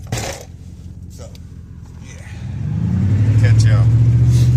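A Dodge pickup truck engine starts low, then rises into a steady, loud, close idle-to-drive rumble over the last couple of seconds after a few faint knocks and movement sounds.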